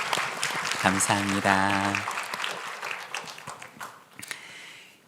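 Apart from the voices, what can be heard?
applause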